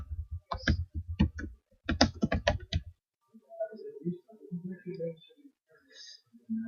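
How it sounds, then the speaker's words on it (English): Quick bursts of keystrokes sound as text is typed on a computer keyboard, close and crisp, then give way to quieter, softer sounds that resemble low talk. "I'm typing some text here."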